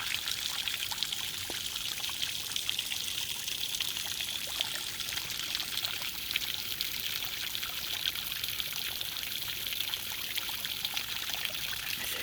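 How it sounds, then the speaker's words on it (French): A waterfall pouring straight onto the ground beside a pond sends up a steady, continuous hiss of splashing water, even in level and unbroken, with no voices. "La beauté de cette cascade. Ce bruit d'eau qui calme,"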